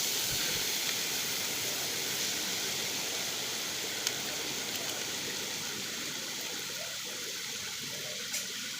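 Boiled bottle gourd slid into a hot wok with black cumin and slit green chillies, giving a steady hissing sizzle with faint steam, continuous and fairly quiet; no talking.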